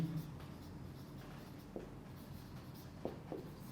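Chalk or pen strokes on a board during a biology lecture on embryonic induction, a few faint scratchy taps against a low room hum and murmur.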